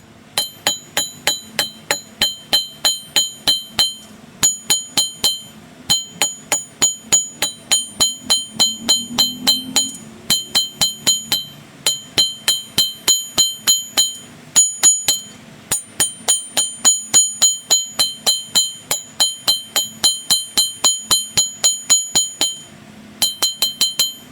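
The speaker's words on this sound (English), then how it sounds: "Some light taps, not forging, I'm just planishing." Light hammer taps planish metal at close range, falling into quick, evenly spaced bursts of bright ringing strikes with brief pauses between runs and no talking.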